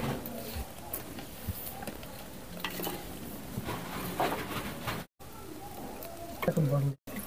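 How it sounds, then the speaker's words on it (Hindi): Fish being mixed by hand with turmeric and salt in a kitchen, soft wet squelching and the clatter of a bowl or utensils, with a voice talking over it. "अब मछली में हम हल्दी नमक बढ़िया से मिला लेंगे।"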